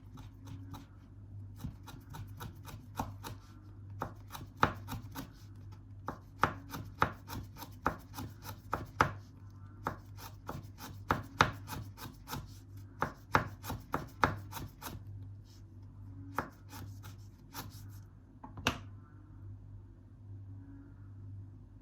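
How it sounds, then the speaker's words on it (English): A knife finely shreds an ingredient for a fermented fish dipping sauce, giving a long run of quick, crisp chops on a board, close and moderately loud, some bursts rapid and others spaced, with no talking. "Shred it very finely."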